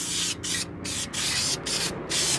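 Flat black aerosol paint sprays onto truck wheel calipers in about five close, loud hissing bursts separated by short pauses.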